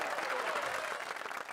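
Applause sound effect dropped into a basketball talk show about a Bucks versus Raptors game, a steady wash of clapping from a crowd that stays loud and even throughout the short burst.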